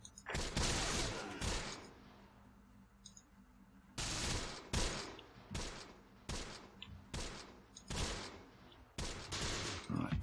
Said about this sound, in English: It's a machine gun unit.